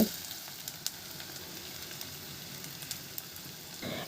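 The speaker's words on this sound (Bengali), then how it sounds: "এবার পেঁয়াজটা একটু সফট হয়ে আসা পর্যন্ত ভেজে নেব" Chopped onion and green chillies frying in oil in a pan, a steady soft sizzle with occasional small pops and crackles, continuous and close.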